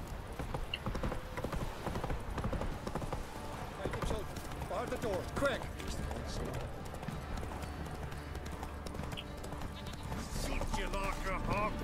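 A horse gallops in The Witcher 3, with steady, rhythmic hoofbeats throughout, an occasional whinny and game voices mixed in.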